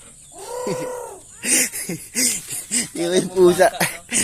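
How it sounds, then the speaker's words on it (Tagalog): A tethered cat gives one short meow, then people start talking over each other in quick bursts. "yung pusa nakatali, awawa naman"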